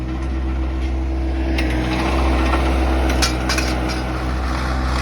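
A fence post hole auger drills the last hole in a yard, giving a loud, steady mechanical drone with a low engine hum and rattling, grinding bursts from the bit biting into soil.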